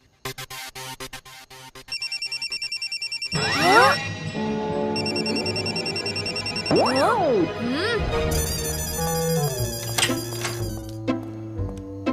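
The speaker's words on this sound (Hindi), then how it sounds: "मैं दादाजी के फोन पे कॉल करके उन्हें जगाता हूँ।" A mobile phone rings out in a repeating electronic ringtone pattern after a call is placed. Layered music and cartoon sound effects swell over it partway through.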